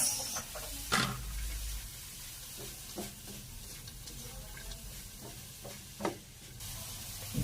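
Carrots sizzling in a pan while being stir-fried for lumpiang labong with chicken and bamboo shoot, a soft continuous frying hiss broken by occasional scrapes and knocks of the spatula, close by with no talking.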